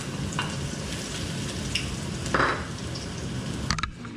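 Garlic fries in a hot wok with a dense, continuous sizzle and crackle, broken by a brief louder hiss and a few scraping stirs near the end.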